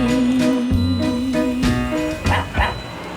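A dog left in a car on a warm day yips and barks in short, uneven bursts close by, with whiny tones between the barks.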